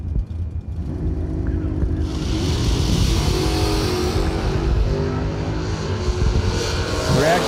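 An '86 Malibu drag car launches down the track, a loud sustained engine roar building and holding close by, with a quieter rumble just before the launch.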